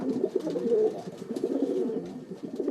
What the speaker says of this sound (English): the American psychologist B.F. Skinner investigated the behavior of pigeons